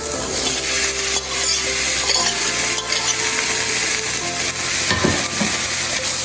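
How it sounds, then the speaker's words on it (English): Meat sizzles loudly in a hot pan with onion and celery, a steady close frying hiss broken by the scrape of a utensil stirring and pressing, with no talk. "now we are going to put in our meat"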